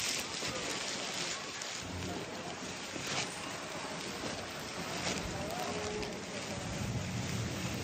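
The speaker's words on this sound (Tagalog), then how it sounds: "Umuulan!" Rain falling outdoors in thick fog, a dense, steady hiss of drops filling the whole stretch at moderate loudness with no clear breaks, much like a constant wash of noise.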